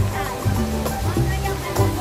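Boiling, gushing water at the sulfur hot spring on Sulfur Mountain in Valencia, Negros Oriental, churns close by as a continuous rushing noise while someone talks over it.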